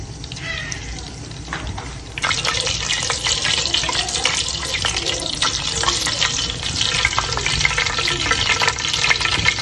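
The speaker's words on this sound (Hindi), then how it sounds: "कढ़ाई में मैंने 1 कप ऑयल लिया है और इसमें 1 चम्मच जीरे का डालती हूँ। जीरा तड़क जाए" Cumin seeds crackle and sizzle in a cup of hot oil in a kadai wok, a steady loud frying hiss that jumps louder about two seconds in and keeps popping throughout, with no talking.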